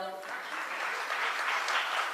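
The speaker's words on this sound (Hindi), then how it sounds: "एक बार भैया के सम्मान में ताली बजाओ" An audience at a Hindi comedy poetry recital breaks into steady applause, a continuous wash of clapping that swells slightly over two seconds after a brief voice at the start.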